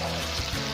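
Red and green whole chilies frying in a tarka, a steady close sizzle of hot oil with a dense crackling texture and brief bubbling pops, no voices over it.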